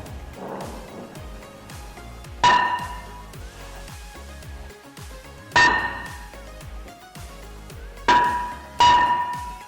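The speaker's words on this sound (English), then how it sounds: "it looks like I'm gonna have to hit it with a hammer" Sharp metallic hammer strikes ring out at irregular intervals, four loud clanging hits on a 2014 Ram EcoDiesel's rear brake rotor over a busy mechanical background.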